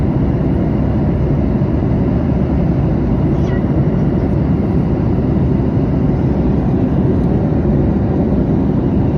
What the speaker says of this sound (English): These planes crossing paths at the exact same time.